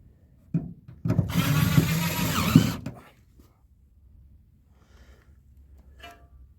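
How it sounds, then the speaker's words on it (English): A power drill drives screws while a car's gas tank is being installed: one loud, close whir lasting about two seconds, preceded by a small knock and followed by quiet handling sounds. "Putting the screws in over here first."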